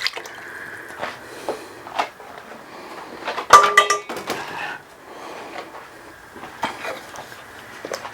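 A spoon stirs a pot of chicken and dumplings with milk added, producing scattered clinks and scraping knocks against the pot, a louder cluster in the middle, close and with no talk.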